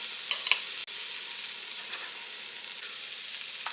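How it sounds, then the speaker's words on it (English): Butter melting in a pan for ramen noodles, a steady close sizzle and fizz with a couple of small pops early on, continuous and fairly quiet. "I'm going to add another ½ tablespoon of butter in my pan. Let that get nice and melted."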